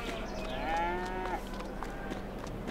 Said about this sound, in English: Oh, cows there, look.